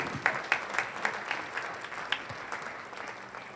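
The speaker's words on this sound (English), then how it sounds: "Let's give him a big round of applause." Audience at a business CEO forum applauding, a moderate round of clapping with distinct individual claps standing out, gradually thinning and fading toward the end.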